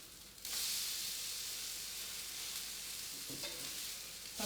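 Fritters hiss and sizzle steadily in a hot frying pan, a loud continuous spatter with a brief scrape and clatter as they are turned over.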